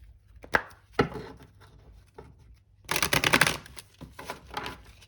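Tarot cards are shuffled close by: a few sharp taps and riffles, then a longer flurry of papery flicking before more light taps.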